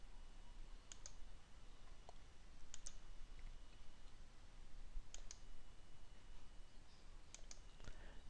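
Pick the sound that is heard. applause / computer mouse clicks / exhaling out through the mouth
computer mouse clicks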